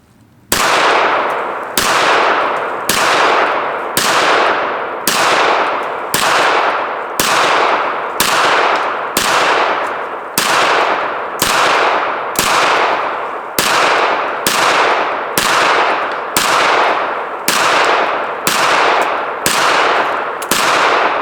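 Twenty evenly spaced sharp gunshots from a KelTec PMR-30 pistol fired at a target, each loud crack ringing briefly, in a steady unhurried rhythm with no talking.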